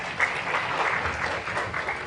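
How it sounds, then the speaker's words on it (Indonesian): A church congregation claps together during a sermon, a steady dense wash of hands held at an even level for a couple of seconds with no voices on top. "Tepuk tangan untuk Tuhan."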